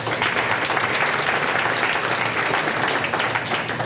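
A stand-up comedy audience bursts into dense, continuous applause that stays loud and steady for several seconds, with no voices over it.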